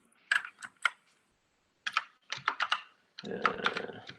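Typing on a computer keyboard during a programming lesson, with short clusters of quick, close keystrokes separated by brief pauses.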